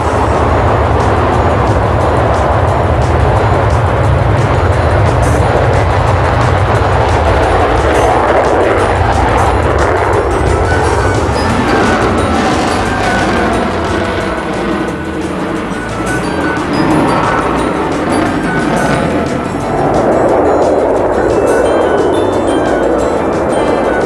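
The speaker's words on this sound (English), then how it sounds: "The B-1 made a slow-speed pass at about 300 knots with the wings extended." Rockwell B-1 bomber jet engines roar during a slow-speed pass at about 300 knots with wings extended at the 1987 Paris Air Show, a loud, sustained broadband rumble that swells and shifts as the aircraft goes by.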